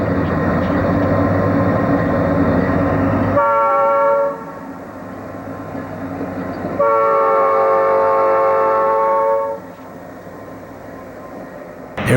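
Eastbound freight train 266 rolling past near Molino and Route 61, sounding two long, loud horn blasts over the steady rumble of the passing cars, with the wheel noise continuing between and after the blasts.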